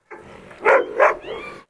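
A large dog, a Cane Corso or Dogo Argentino, gives two loud, close barks in quick succession, followed by a short whining tone.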